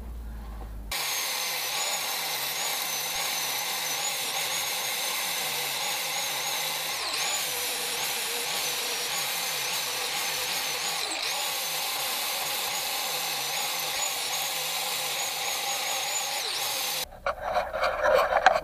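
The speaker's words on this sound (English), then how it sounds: "let the flap disc do the work. Don't grind into it. Keep it flat" Continuous high-pitched whine and rasp of a flap disc grinding metal during a K-swap engine mount install, steady and close for most of the clip, stopping abruptly near the end.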